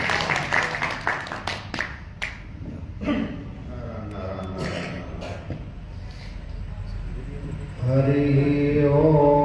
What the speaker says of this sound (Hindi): तालियां बजा दो सभी को।